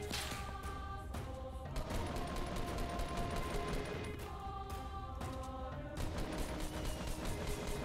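Rapid gunfire from Fortnite Battle Royale, dense bursts of automatic shots with sharp cracks and thuds layered over in-game music, loud and continuous with short pauses between volleys.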